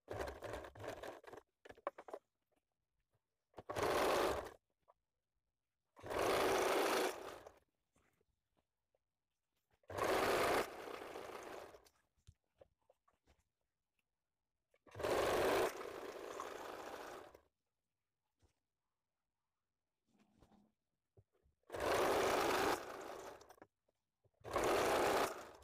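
A sewing machine stitches a semi-Patiala salwar in loud, steady whirring runs of one to two seconds each, close by, separated by quiet pauses and occasional small clicks of the fabric being handled.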